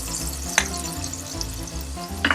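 Onions cooking softly in a pan over medium-low heat for a pierogi filling, a continuous close sizzle broken by a couple of sharp clicks from the pan.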